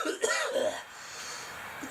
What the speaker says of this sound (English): I'm just coughing because I'm a fucking old smoker